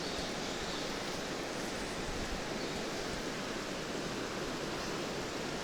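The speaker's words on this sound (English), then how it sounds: "You hear the waterfall? The river?" A waterfall and a rain-swollen river in a Japanese mountain valley make a steady, dense roar of rushing water that fills the whole scene evenly, with no talking over it.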